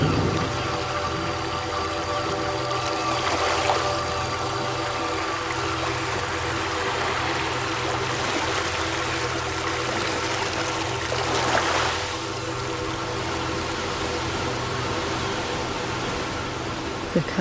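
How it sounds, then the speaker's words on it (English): Waves wash and surge steadily in an audio drama as a castle is destroyed and a town is swept away, a continuous roaring rush with a faint engine-like hum beneath and two brief louder swells. "The castle is destroyed by the waves."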